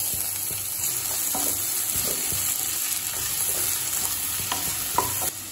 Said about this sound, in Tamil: கடையில் தேவையான அளவு எண்ணெய், 2 பட்டை, 1 கிராம்பு ஏலக்காய், 2 வெங்காயத்தை சேர்த்துக்கலாம்.